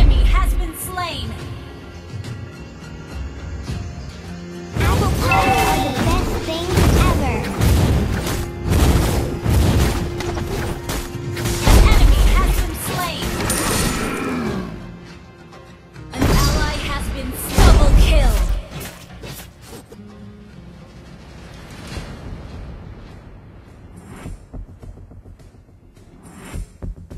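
A turret being destroyed in a video game, booming crashes and bursts in several loud clusters amid game effects, with an announcer-style voice speaking over them.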